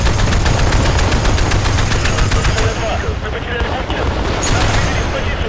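Heavy automatic gunfire from a bigger weapon in the online shooter Battlefield Play4Free, a dense, loud continuous burst of rapid shots with a brief lull midway, and voices mixed in the game noise.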